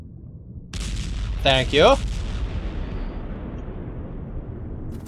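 A video game explosion booms loudly and close, a deep rumbling blast that lingers and fades into a long low tail, with a brief spoken phrase over it.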